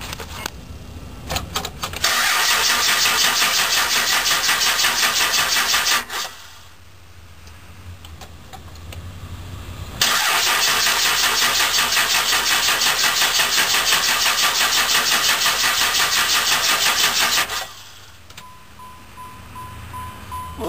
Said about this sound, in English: Another cold crank this morning.